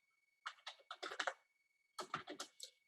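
Fingers typing on a computer keyboard while writing a first web page: two quick bursts of close, crisp keystrokes separated by a short silence.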